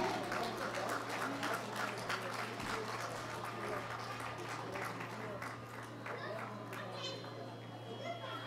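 Festival crowd applauding performers at an outdoor culture festival in Kellinghusen, a steady wash of clapping with cheers and chatter throughout, fairly distant under a constant low hum.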